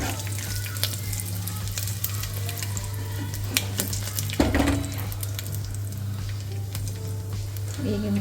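Cumin, mustard seeds and a dry red chili frying in hot oil for an upma tempering, giving a steady close sizzle with small crackles and pops throughout, over a constant low hum.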